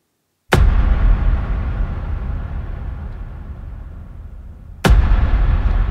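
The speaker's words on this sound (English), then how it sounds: "The big boom effect that you're getting is coming from a Spitfire VST." Two huge cinematic boom hits from a Spitfire Hans Zimmer percussion library, processed with distortion and compression: a sudden deep impact that rumbles and slowly decays, then a second strike a few seconds later.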